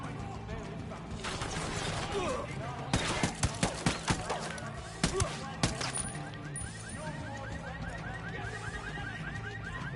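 Bursts of rapid automatic gunfire in Ghost Recon Wildlands, several sharp close shots clustered in the middle amid a busy combat soundscape, with voices talking over the action.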